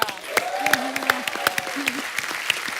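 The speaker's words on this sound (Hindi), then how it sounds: "पहले तो जोरदार तालियां।" Dense applause from a TV comedy show studio audience, scattered sharp claps, steady and lively like a crowd clapping together, with faint voices mixed in.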